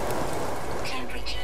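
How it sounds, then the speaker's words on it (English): Rain falling inside a base in the video game No Man's Sky, a dense steady patter with brief brighter splashes, while someone talks over it. "why it was raining inside of my facility like that"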